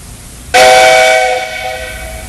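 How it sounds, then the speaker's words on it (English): A loud train conductor's whistle blasts suddenly after a moment of quiet and holds a steady, shrill tone, easing slightly as it continues. "Did you get your whistle fixed, Mr. C?"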